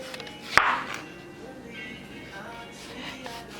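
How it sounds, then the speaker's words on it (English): A kitchen knife slices through fresh tomatoes on a cutting board, one crisp cut standing out near the start, followed by faint soft slicing sounds under quiet background noise. "I'm going to slice the tomatoes"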